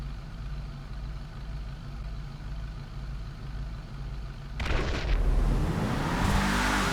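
Race car engine in GTA racing, droning steadily at first, then surging loudly into a hard launch with rising revs off the line, no voices.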